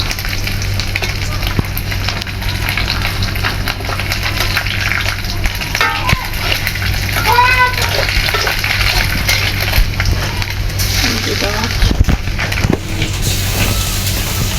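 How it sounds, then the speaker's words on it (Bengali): A spoon stirs a paste of mustard, ginger and turmeric in a hot pan, with a constant oily sizzle beneath scattered scraping and clinking strokes, close and fairly loud. "সরিষা আদা আর হলুদের গুঁড়া এটা ভালোভাবে মিক্স করে নেওয়া হচ্ছে"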